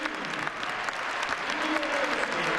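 Arena crowd at a basketball game between Benetton Treviso and Pau Orthez applauding and cheering, a steady dense wash of clapping and voices throughout at moderate distance.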